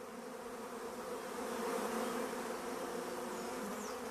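A swarm of honeybees buzzing in a dense, steady drone, many insects at once close by, holding a constant level with slight swells and no voices.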